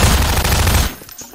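Rapid automatic gunfire in Garry's Mod Prop Hunt, a loud close burst of dense shots lasting under a second before cutting off abruptly into quiet.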